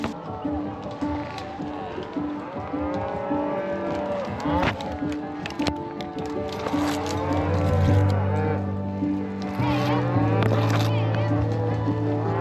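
Cattle low and moo on a mountain cattle drive, with calves and cows moving along a trail under riders; several rising calls over steady hoofbeat and movement noise, with people talking throughout.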